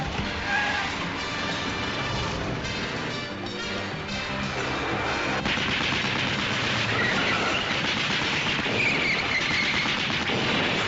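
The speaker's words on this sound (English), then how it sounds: "It's amazing how easy it is to stop a car when you rake it with machine gun fire, isn't it?" Machine gun fire rakes a car in a Japanese Spider-Man TV episode, a dense, continuous clatter of rapid shots that stays loud and unbroken for about eleven seconds.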